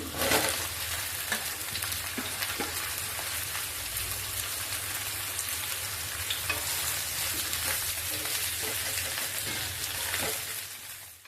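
Jackfruit curry frying in mustard oil, a steady dense sizzle like rain with occasional stirring scrapes, close and continuous, no talking.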